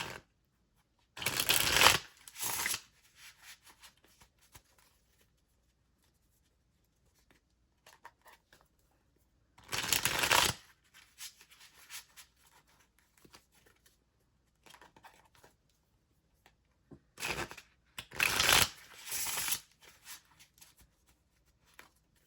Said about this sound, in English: So now I'm going to pull from the Z108 deck and give each sign their own one card reading.